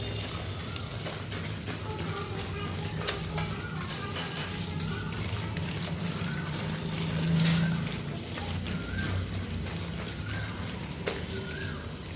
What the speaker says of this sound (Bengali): এখানে টকবক করে ভাতটা ফুটে গেছে